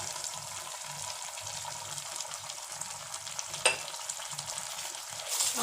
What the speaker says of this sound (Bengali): এবার আমি যে সর্ষে আর কাঁচা লঙ্কার পেস্টটা তৈরি করে রেখেছিলাম সেটাকে আমি এর মধ্যে দিয়ে দেবো